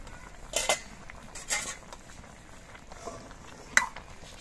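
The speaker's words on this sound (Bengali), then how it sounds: "কিছুক্ষণ পর আবার আমি ঢাকনাটা খুলে নিচ্ছি।" A lid comes off a cooking pot with a few light metallic clinks and scrapes, spaced apart over quiet background.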